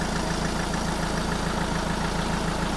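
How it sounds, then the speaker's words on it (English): VW T6 van engine idling after an oil change, heard up close as a steady, even diesel-like clatter with a regular knocking pulse and no voices. "that's the engine running"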